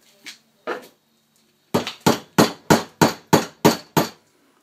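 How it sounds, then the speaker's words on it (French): Sharp strikes on a wood chisel carving out a bushcraft kuksa cup, removing as much wood as possible: two spaced knocks, then a steady run of about eight loud, close, evenly timed hits. "moi je travaille au début au ciseau à bois pour enlever un maximum de matière"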